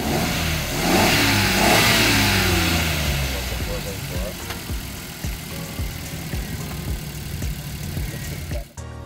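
A Suzuki DA17V 4x4 tiptronic engine revs hard with a few quick throttle blips and then settles back toward idle, loud and close, with some talk alongside.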